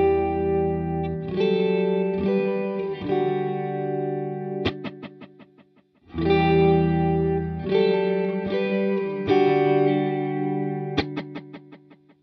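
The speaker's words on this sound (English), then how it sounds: "Here we've set up an echo verb sound." An electric guitar plays chords and picked notes through a Source Audio Ventris Dual Reverb pedal set to an echo verb sound, each phrase leaving long repeating echoes and a washy reverb tail that fade out between passages.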